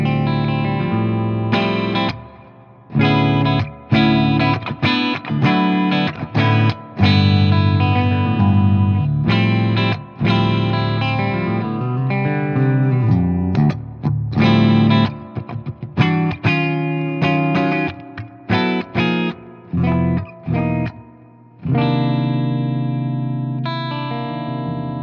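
Electric guitar, a Fender Pawn Shop Special, played alone through a Keeley compressor into a Fender '65 Deluxe Reverb tube amp, chords and riffs with a warm, slightly overdriven tone, loud and close, with short pauses between phrases.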